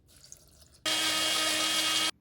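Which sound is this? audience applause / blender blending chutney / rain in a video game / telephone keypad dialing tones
blender blending chutney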